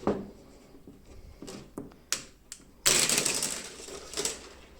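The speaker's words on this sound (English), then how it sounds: "Can I manage to wind it like this?" Recoil spring coil of a Dolmar/Makita chainsaw being wound by hand, giving a series of sharp metallic clicks and rattles that build into a denser scraping burst near the end, close up.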